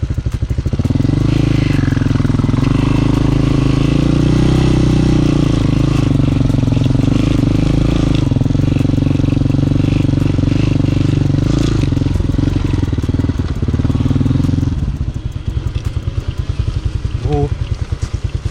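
A Honda Hawk 250cc dual sport motorcycle engine runs loud and close while riding through the city, its throaty revving rising and settling before dropping to a rougher idle near the end.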